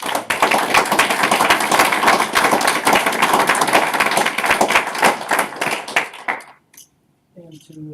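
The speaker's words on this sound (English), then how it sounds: "I just think that they deserve a real hearty round of applause for that." A council meeting audience gives Girl Scouts a hearty round of applause, dense close clapping that holds for about six seconds before cutting off, followed by silence and a voice starting to talk.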